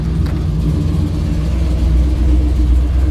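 A 1949 Chevy pickup truck's big-block engine idles steadily and close by, a low rumbling drone with a faint ticking knock of wrist pin noise running through it.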